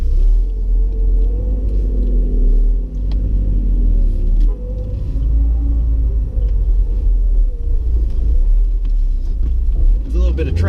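A Porsche 968 Cabriolet with a 3-liter four-cylinder engine drives through midday traffic, its steady low rumble loud and continuous with a brief dip partway through.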